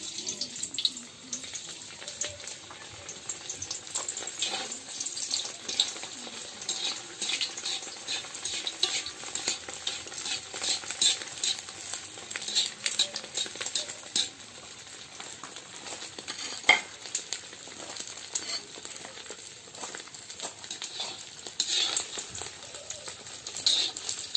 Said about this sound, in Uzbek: Buni qizartirib qovurib olamiz